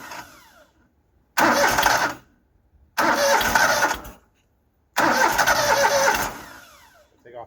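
An engine on a farm auction machine fitted with a new carburetor and fuel pump cranks in three separate bursts on a very cold day, each a loud churning roar lasting about a second, with quiet gaps between.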